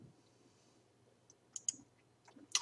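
Several sharp computer mouse clicks, quiet and close, spaced irregularly with a double click near the middle and a louder click at the end, over faint room hiss.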